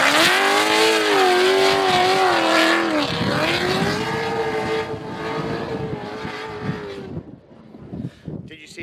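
A drift car on a track, likely from a Eurofighters pre-season testing session, revs loudly through throttle changes and transitions, its engine note rising and falling in wavering sweeps before dropping off and fading near the end, with possible talk underneath.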